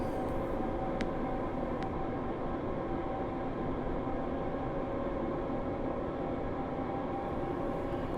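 A train running from Glasgow to Edinburgh in the Train Sim World 5 video game gives a steady, loud, even rumble of wheels and motor, with a couple of brief clicks near the start.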